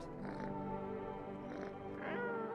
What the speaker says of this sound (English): Cat. Cat. Buddy. Friend.